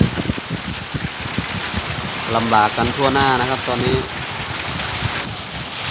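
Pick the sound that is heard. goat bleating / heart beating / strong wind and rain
strong wind and rain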